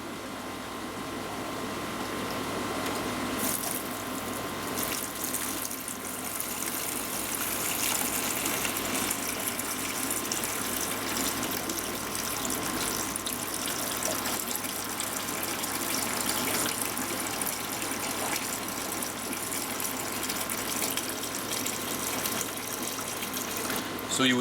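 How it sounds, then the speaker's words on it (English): Water steadily rushing through a siphon hose as organic waste is sucked off aquarium sand into a bucket, a continuous gushing, gurgling flow heard close up for a long stretch. "it just sucks the organic waste, which is lighter than the sand, up off the top with a bit of water down into your bucket."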